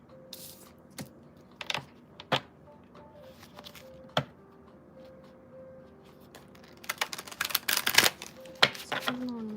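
A deck of tarot cards being shuffled nearby, with scattered soft taps and flicks that build into a denser burst of riffling clatter toward the end. No one speaks.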